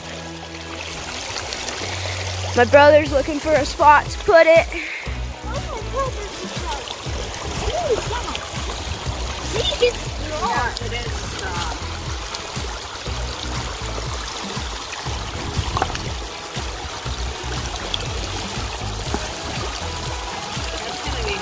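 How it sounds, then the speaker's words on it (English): The fast-flowing Yellowstone River rushes and splashes steadily throughout, close by and continuous, while people talk over it. "we're just gonna put it in this fast flowing water here"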